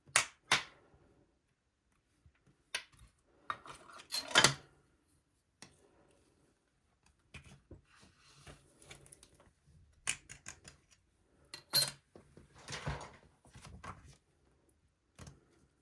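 An X-Acto knife cutting polymer clay around a lid on a crafting surface: sparse, quiet scraping and clicking taps with pauses between, close and faint, no talking.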